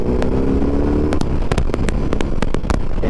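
A 2022 BMW R18 Classic with its 1800cc boxer twin accelerates hard, giving a loud, continuous rumbling roar broken by sharp popping bursts, heard close up from the rider's position.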